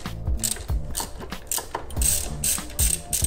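A hand ratchet working 5mm hex bolts loose on an RC car's rear tire hugger, rapid clicking pawl bursts repeating in short strokes, close and crisp with no voices.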